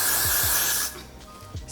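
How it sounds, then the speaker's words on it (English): Got to Be Glued hair spray is sprayed onto hair edges in a close, steady hiss lasting under a second, followed by quieter handling sounds. "I'm going to take Got to Be Glued spray"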